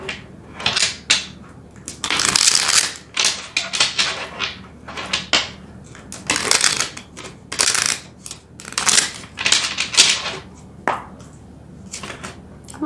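Tarot cards are shuffled and drawn by hand, giving close, crisp bursts of riffling and slapping card sounds in irregular clusters with short quiet gaps.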